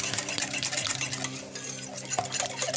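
Batter being mixed in a bowl, rapid rhythmic scraping and clinking of a utensil against the bowl, close and continuous with a brief pause midway.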